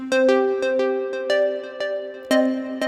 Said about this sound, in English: We have two pluck sounds that sound like this.